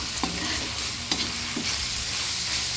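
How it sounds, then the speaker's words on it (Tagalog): Chicken sizzles in a pan as it is sautéed for pancit bihon canton, a soft steady frying hiss with a few light stirring clanks of a utensil against the pan. "Lagay natin ang chicken. Gisahin muna natin mabuti."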